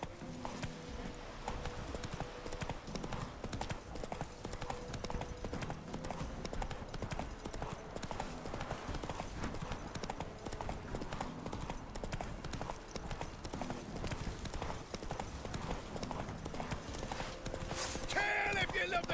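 A horse gallops in The Witcher 3, a fast continuous clip-clop of hooves running throughout with a steady rhythm, accompanied by game speech and ambient sound.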